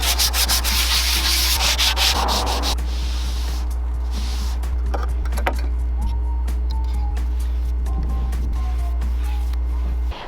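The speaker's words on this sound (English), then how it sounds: "Some people hate sanding." Steady, loud sanding rasps continuously over a low constant hum, with a few scattered knocks and clicks, close up.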